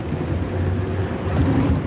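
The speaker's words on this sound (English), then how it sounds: "Oh God, now there's wind." Loud, steady roar of wind buffeting the microphone on a speeding boat, low and rumbling with a constant churn of water beneath and no voices.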